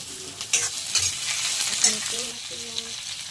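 Tomatoes and green chillies are added to a hot pan and fry with a crackling sizzle, broken by stirring scrapes and utensil clinks, close and moderately loud, with brief faint tonal hums underneath.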